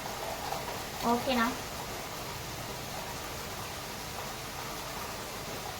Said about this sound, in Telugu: వర్షం పడుతుంది గాయస్, ఏం అనుకోకండి, సౌండ్ అయితే వస్తుంది